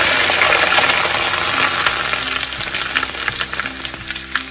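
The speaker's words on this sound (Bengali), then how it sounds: "এই যে আমি এখন আস্তে আস্তে মুড়িগুলোকে ভাজা শুরু করব।" Rice grains being hand-puffed into muri in hot oil, a loud dense sizzle and crackle that runs steadily throughout, with scattered sharper pops toward the end and no talking.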